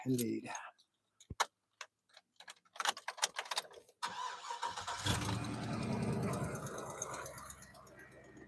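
A pickup truck engine cranks and catches after a few quiet clicks and a brief spoken word. It then settles into a steady, fairly close idle, started to run the air conditioning.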